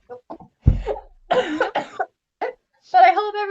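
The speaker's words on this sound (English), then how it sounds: "let me just take a like a coughing break" A person coughs several times in short, harsh bursts, close and fairly loud, with brief gaps between them and some throat noise.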